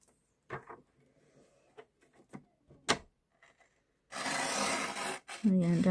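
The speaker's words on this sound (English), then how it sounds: "I am just going to pop it in my trimmer because it's easier" Paper trimmer scoring a sheet of card, with light clicks and taps as the card is positioned, then a sustained scraping stroke of the scoring blade near the end and a brief voice right after it.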